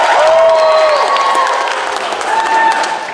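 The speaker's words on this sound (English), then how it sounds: "You hear those claps?" Loud comedy club audience clapping and cheering after being asked who was born in the 80s, a steady wash of claps with whoops and vocal cheers on top.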